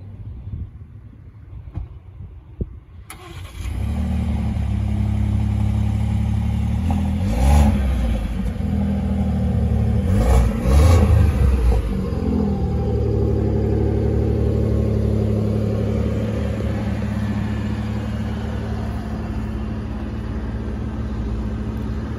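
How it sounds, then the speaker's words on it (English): A 2024 Ford F-150 Platinum pickup truck cold-starts after a quiet moment, its engine catching with a sharp rev that flares twice before settling into a steady, loud, close idle with no talking. "give her a nice crank up, nice cold start"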